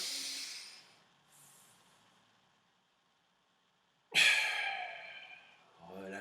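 Deep breathing during a sophrology relaxation exercise: a long soft inhale, a quiet hold, then a stronger exhale, all close and alone.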